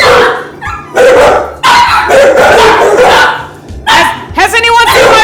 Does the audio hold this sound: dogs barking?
yes